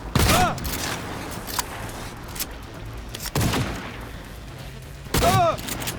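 Shotgun blasts from a first-person shooter game, an iconic variant with reduced cartridge capacity and wide spread: three loud booming shots spaced a few seconds apart, each with a sharp attack and ringing tail, with faint game noise between.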